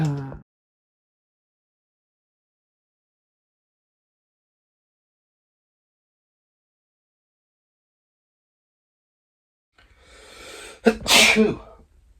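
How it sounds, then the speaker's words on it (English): A single loud sneeze near the end, preceded by a sharp inhale, after a long stretch of silence. "Sneezing"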